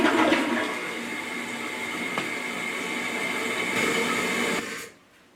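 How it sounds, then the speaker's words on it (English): A household toilet using 1.6 gallons per flush is flushed, a steady rushing gush of water swirling for several seconds before abruptly cutting off into near silence; no one speaks. "Be sure to give the toilet a flush or two to remove the dye from the bowl."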